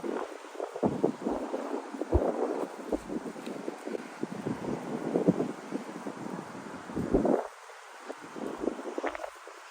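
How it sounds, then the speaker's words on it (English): Gusty wind on a disc golf course at CSU Monterey Bay buffets the microphone in uneven low rumbling bursts, easing briefly near the end before picking up again. "Right now the wind's coming at us."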